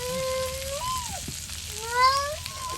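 Stinging catfish frying in a pan over a fire give a steady, close sizzle throughout, with thin whistling tones drifting above it.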